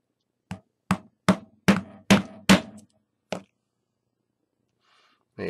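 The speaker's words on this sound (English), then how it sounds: "I'll hammer it on." A post being hammered on during a bottom-feed squonk conversion of a Deringer mod: six evenly spaced sharp taps, then one more after a pause, close and crisp with silence between.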